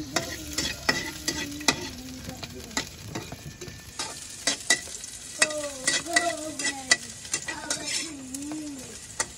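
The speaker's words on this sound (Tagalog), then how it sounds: "naggisa tayo ng bawang sibuyas" Garlic and onion sauté in a pan with a loud, steady sizzle and repeated clattering stirs. A pigeon coos intermittently in the background.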